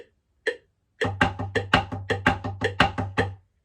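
A couple of metronome clicks lead into a quick, even stream of snare drum triplets accented on every second partial, the accents falling off the metronome beat.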